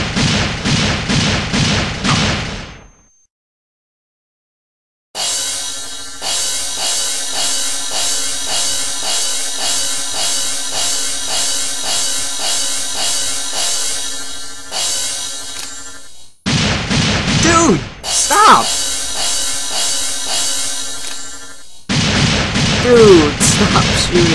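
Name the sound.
gunshots in a video game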